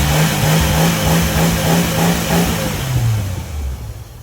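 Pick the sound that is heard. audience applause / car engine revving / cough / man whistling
car engine revving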